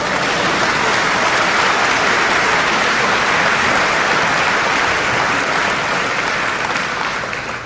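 A large audience applauds at the Kents Hill School 2018 commencement ceremony, a loud, steady wash of clapping that fills the whole stretch and fades slightly at the end.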